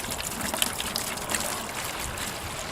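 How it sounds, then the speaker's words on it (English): Vinegar is poured into a container as a wood aging solution, making a steady, continuous splashing trickle at close range with no talk. "Alright, so pour the vinegar in."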